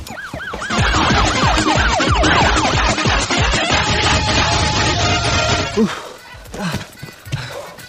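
An ambulance siren wails loudly in rapid rising and falling sweeps for about six seconds, then cuts off, leaving scattered knocks and clatter.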